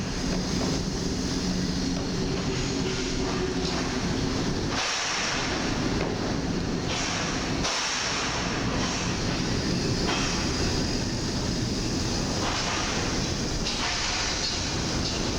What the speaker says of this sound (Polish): A my teraz nagramy wjazd Intercity Sobieski z EP09027.